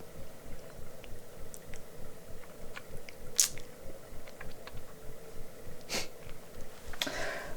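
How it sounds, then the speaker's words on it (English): Close ASMR mouth sounds: soft rhythmic chewing and biting with occasional sharper wet clicks and a snort-like breath, quiet and intimate throughout. "I like the mouth sounds"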